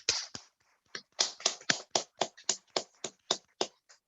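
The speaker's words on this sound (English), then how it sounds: "Please clap your hand." Clapping at a Happiness Festival event, heard as a short burst of about a dozen sharp, evenly spaced claps, moderately close. The rhythm suggests a few people or a single pair of hands rather than a full audience ovation.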